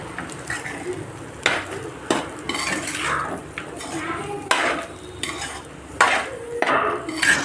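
Egg fried rice is stirred in a pan with a utensil. Repeated scraping and clinking strokes land in an irregular rhythm over a low, steady background hiss, close and fairly loud, with no talking.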